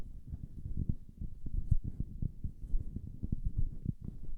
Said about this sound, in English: Handling noise on the SM58.